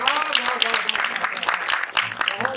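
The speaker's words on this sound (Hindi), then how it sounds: "एक बार जोरदार तालियां बजाएं" Applause from a crowd, steady clapping throughout with a voice or cheers mixed in, moderately loud.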